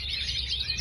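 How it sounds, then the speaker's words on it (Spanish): Small birds chirping in quick, high twitters while bathing, a steady thin chatter close by over a low background rumble, no voices. "a él le gusta que yo le mande los videos de los pájaros bañándose."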